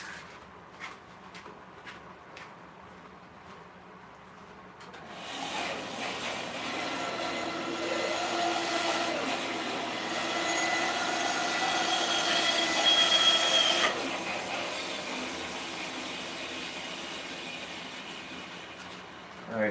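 Power tool trimming a piece off a tree branch from a yard. After a quiet start, a loud, steady grinding whine runs for about nine seconds, then cuts off abruptly.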